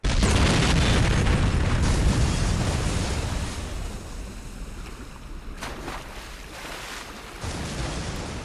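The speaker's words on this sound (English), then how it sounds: "A deadly explosion has rocked the waterfront." Explosion boom rocking a waterfront in Saints Row, a loud broadband blast at the start that rumbles and fades over several seconds, with a few later bursts and crackles amid water ambience.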